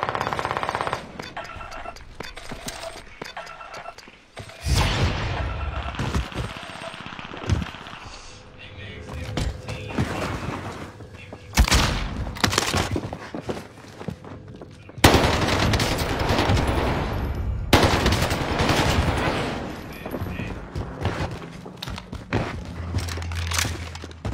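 Vargo S submachine gun in a shooting video game, rapid bursts of automatic fire cutting in and out over ambient game noise, loud and close, with gaps between volleys.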